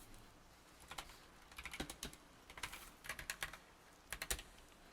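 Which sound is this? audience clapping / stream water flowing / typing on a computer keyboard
typing on a computer keyboard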